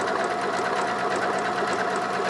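A sewing machine runs a decorative stitch with twin needles, giving a loud, close, continuous whirring hum with a fast, even needle rhythm throughout.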